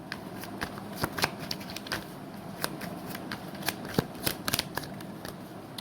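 Tarot cards being shuffled by hand, a steady run of soft papery riffles and flicks with sharper snaps scattered throughout, close and alone with no talking.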